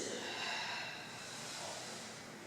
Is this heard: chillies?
no